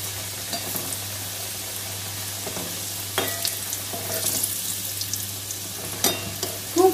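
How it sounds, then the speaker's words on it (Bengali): Chicken samosas deep-frying in hot oil over lowered heat give a steady, close sizzle with occasional louder crackles and stirring clinks, no voices. "কমিয়ে নেওয়ার পরে আমি 3টে করে সামোসা একসাথে ভেজে নেব।"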